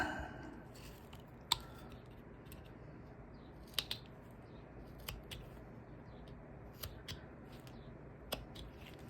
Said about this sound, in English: I do want to carve this a little bit deeper right here. So I'm going to do it with my knife.